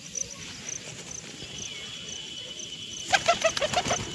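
Pigeons flap their wings in a quick burst near the end, over a quiet background with faint bird chirps and insect hum.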